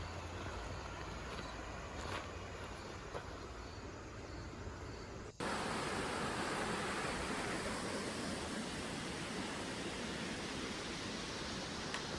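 Creek water flowing steadily outdoors during a rockhounding outing, a broad continuous rush that turns louder and closer partway through and holds constant with no talk.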